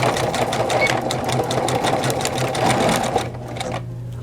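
A sewing machine stitches elasticized waist pants in a rapid, steady mechanical whir with a rhythmic needle clatter, running loud and close before slowing and stopping near the end.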